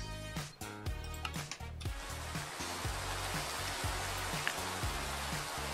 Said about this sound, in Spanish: Y vamos a poner esto lloviendo.